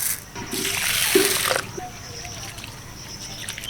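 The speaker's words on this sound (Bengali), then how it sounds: "ভালো করে ধোয়ার পরে আমি এর মধ্যে দিয়ে দিচ্ছি কিছুটা জল।" Rice and lentils, equal amounts, with the rice being sun-dried atop rice, are rinsed in water in a kitchen: splashing and pouring for about a second and a half, then a softer trickle that fades.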